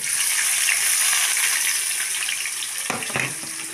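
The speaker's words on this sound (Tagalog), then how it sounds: "Mainit na yung ating mantika. So lagay na natin yung hotdog." Hotdogs drop into hot cooking oil, setting off a steady, bright frying sizzle that runs throughout, with a short clatter and a bump of handling near the end.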